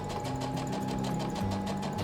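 A sewing machine runs steadily in a basic sewing and clothing-reform class, its continuous whir carrying a fast rhythmic stitching pulse, close and loud with no talk.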